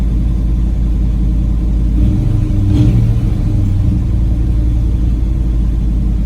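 A deep, rumbling big block V8 in a Ford F-250 truck idles steadily, high and loudly close by, with a slight swell in revs midway through.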